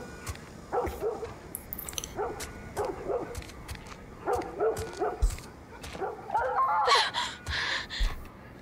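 In the video game The Last of Us Part I, a dog barks and yips in scattered bursts that sound moderately distant. The bursts sit over a steady ambient hum with a few soft thumps.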